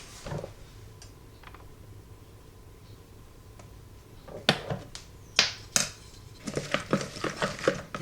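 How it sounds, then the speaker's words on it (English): A spoon scrapes and clinks against a bowl while canned albacore tuna is mixed with salt, lime juice and olive oil. It opens quietly with light taps, then a run of sharp, close clatters and stirring knocks toward the end. "Make sure to mix it all together."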